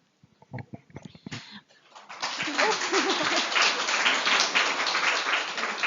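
Audience at a library seminar, a 'Library of the Future' focus session at a northern cultural forum, breaks into sustained, dense applause that swells and holds steady, after brief talking and a few early claps.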